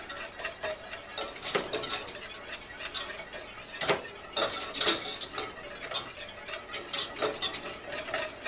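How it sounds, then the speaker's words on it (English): A whisk scrapes and clinks steadily against the inside of a pot as a mixture is stirred on the stove, close and continuous, with irregular metallic taps. "let's give it a whisk."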